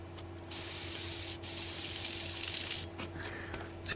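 A Badger Xtreme Patriot 105 airbrush sprays paint with a steady hiss that breaks into uneven spattering after a turn of the adjustment, with air pressure unchanged, alone and close by.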